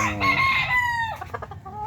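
Fighting roosters let out a loud, close crow that trails off, followed by a few short clucks, with no voices present.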